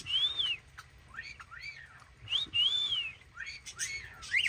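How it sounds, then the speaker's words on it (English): A pet bird at an animal sanctuary gives a run of clear, bright rising and falling whistles, close and fairly loud, several phrases over a few seconds with a low rumble of background noise. "That's Ricky whistling back."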